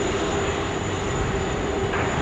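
A Hainan Airlines airliner taxis at Sydney Airport, giving a steady, loud jet engine roar and whine that holds evenly throughout with no break.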